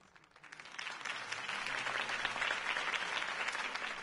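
Crowd applause from an in-game political rally in Telltale's Batman, a steady wash of many hands clapping that swells in after a brief quiet start and holds loud and continuous to the end.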